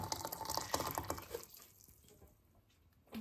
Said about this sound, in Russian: И заливаем это все дело кипяточком.